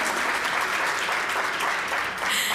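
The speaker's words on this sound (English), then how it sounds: "Oh, I'll take applause on that." Audience applause at the 2022 Georgia Council on Developmental Disabilities candidate forum, a brief, steady burst of many hands clapping at moderate loudness for a couple of seconds.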